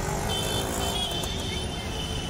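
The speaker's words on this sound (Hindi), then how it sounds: "इधर से ये ट्रैफिक आ रहा है और इधर को ट्रैफिक जा रहा है" Street traffic moves through a police-manned junction in Morbi: cars and motorcycles drone and rumble continuously nearby, with a steady engine hum and a faint horn-like tone.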